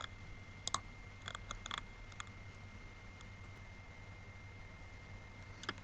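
Someone types a word on a computer keyboard, producing a few faint, quiet clusters of key clicks early on, then mostly a low hum with one last click at the end.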